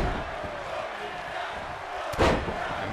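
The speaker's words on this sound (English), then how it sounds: "this crowd in Hartford giving the appreciation to Rollins, giving the appreciation to Sheamus" Arena crowd noise from WWE 2K23 in Hartford during a King of the Ring match, a steady broad roar with a sharp slam-like burst around two seconds in.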